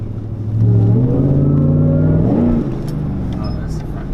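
A Chevrolet Tahoe engine revs up once on a brief test drive, rising to a loud close roar before the pitch drops back and it settles into a lower running hum.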